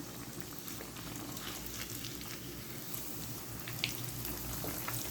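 A bread sandwich frying in hot oil on a street-style stove, a dense steady sizzle and bubbling held at an even level throughout.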